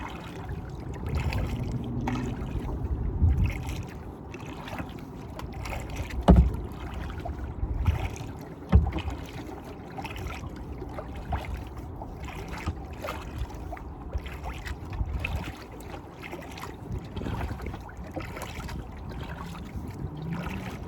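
A paddle dips into calm water from a small boat, with rhythmic soft splashes and trickles repeating close by against a quiet outdoor background, a couple of sharper knocks standing out.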